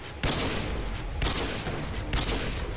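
Three loud, close bursts of rapid assault-rifle fire in Modern Warfare 2, each cracking sharply and trailing off before the next volley, roughly a second apart.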